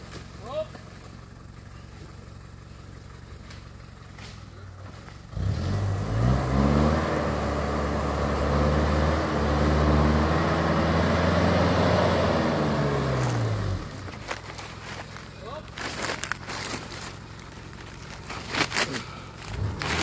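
A long car engine manoeuvring on a steep climb, quiet at first and then revving loud and steady for several seconds before dropping back, with people talking throughout.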